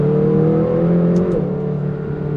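A McLaren GT sports car accelerates hard, its engine a loud, close, continuous whirring roar that climbs in pitch before easing slightly.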